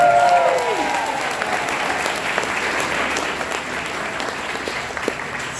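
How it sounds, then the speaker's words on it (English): An event audience gives a sustained round of applause, a steady wash of dense clapping with a few sharper claps standing out. A brief voice fades at the start, and the clapping slowly eases. "So let's give a round of applause."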